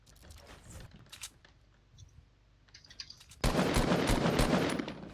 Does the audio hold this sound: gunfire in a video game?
yes